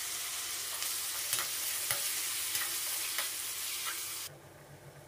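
Onions and chopped tomatoes with salt sauté in a pan for a broccoli gravy, giving a soft, even sizzle broken by scraping stirs every half second or so, before the sound drops away near the end.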